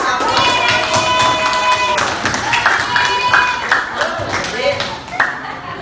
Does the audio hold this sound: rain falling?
no